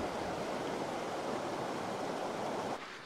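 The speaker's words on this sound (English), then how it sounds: "This is just so cool seeing the springs overflow into the river here" Steady broadband rush of Grand Prismatic Spring's hot water overflowing into the river at Yellowstone, a continuous close wash of flowing water that dips slightly near the end.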